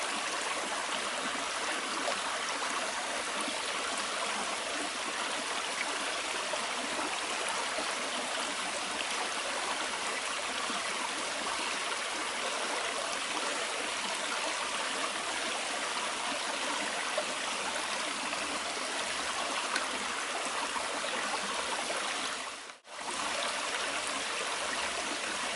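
Stream water pours steadily into an aqua pouch, a close, continuous rushing trickle with a brief dropout near the end, no voices.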